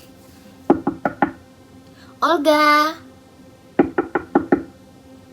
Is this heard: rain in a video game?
no